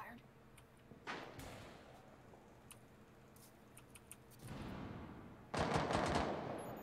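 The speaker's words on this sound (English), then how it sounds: "Shots fired." Bursts of gunfire in Rainbow Six Siege crack out in short clusters, with louder rapid volleys near the end, mixed with clattering movement and brief talk.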